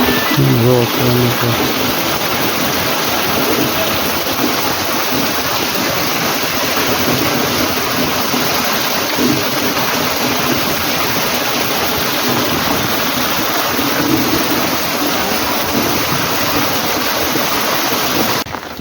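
Steady heavy rain pours down continuously, a dense unbroken hiss with no voices.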